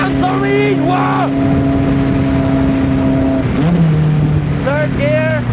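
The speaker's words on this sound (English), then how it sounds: "revs sound so mean!" A sports car engine revs hard, rising and falling in loud, rasping sweeps over a steady drone, with a brief dip near the middle before more quick revs; a voice is heard over it.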